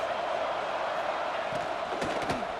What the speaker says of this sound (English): this crowd coming to life here, trying to help the defense get a stop with the offense pinned back